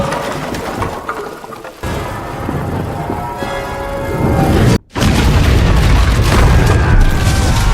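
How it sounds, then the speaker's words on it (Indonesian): A loud, sudden boom erupts mid-clip after a brief cut to silence, followed by sustained heavy rumbling and debris-like roar. "sebuah rudal tiba-tiba jatuh ke dalam gedung yang dalam beberapa saat kemudian meledak"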